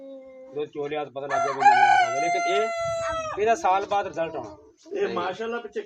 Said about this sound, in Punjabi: ਕੁੱਕੜਾਂ ਦੀ ਵੀ ਆਵਾਜ਼ ਆ ਰਹੀ ਆ